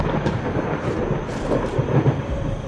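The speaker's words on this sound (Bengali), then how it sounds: "আশেপাশে কোথাও একটা বাজ পড়ার বিকট শব্দ হলো" A deep, continuous rumble of thunder from a nearby lightning strike rolls on steadily throughout, loud and alone, as a sound effect in a horror story.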